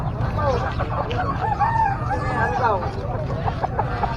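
A rooster at a Saturday pet market in San Carlos City, Pangasinan, crows and clucks amid nearby fowl, with market chatter and Filipino voices bargaining steadily underneath.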